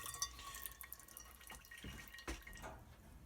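Water runs and drips into a cast iron pan crusted with baked-on tomato sauce, a soft, faint trickle with scattered drips and light clinks, close by and alone.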